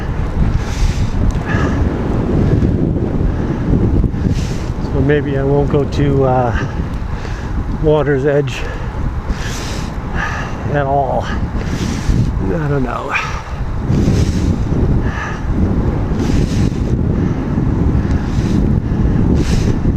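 Cold wind gusts buffet a microphone on the shore at Cedar Island, a loud rumbling roar that continues throughout with waves washing faintly beneath, while someone talks intermittently over it.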